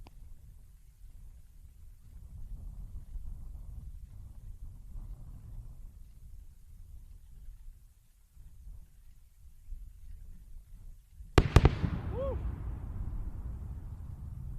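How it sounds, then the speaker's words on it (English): A Falcon 9 booster returning to Landing Zone 40 sends down a pair of sharp, quick sonic booms after a long stretch of faint wind and murmuring voices, followed by a lingering low rumble. "We should have the sonic booms."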